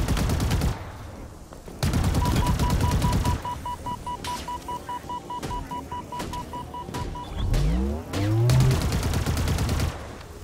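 Bursts of automatic gunfire and explosive impacts from Halo Infinite's campaign, loud rapid volleys separated by short pauses, with electronic tones and a sweeping sci-fi whoosh between them.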